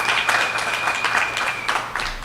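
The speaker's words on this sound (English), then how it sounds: "Give him a round of applause." Audience applause at a political gathering in Trinidad, a moderate steady round of clapping with a faint sustained tone running underneath, fading slightly toward the end.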